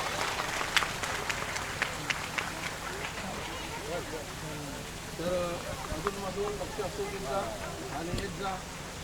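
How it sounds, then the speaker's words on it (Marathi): A crowd at a gathering in a Buddhist vihara in Jai Bhim Nagar, Powai, Mumbai, applauds for a speaker, a soft, dense patter of many hands, with voices talking over it partway through. "जोरात टाळ्या साहेबांसाठी"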